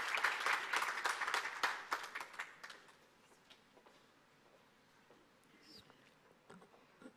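A conference audience in Lomé claps in a dense burst of applause that gradually thins out to scattered claps and quiet murmuring.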